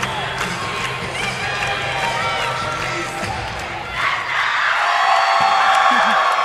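Crowd at a high school state cheerleading finals cheering and whooping after a competitive routine, a dense roar of voices swelling louder toward the end, with a commentator talking over it.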